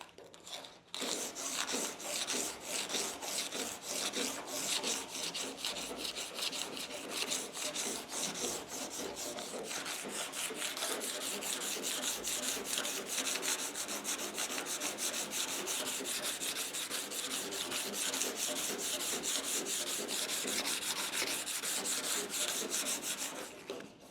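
Hand sanding with 80-grit sandpaper on the bare metal of a second-generation Camaro door skin makes a continuous, close, gritty rasping with a steady back-and-forth scrape that runs unbroken throughout.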